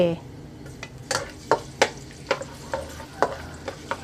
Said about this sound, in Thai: น้ำมันเริ่มร้อน กระเทียมลงค่ะ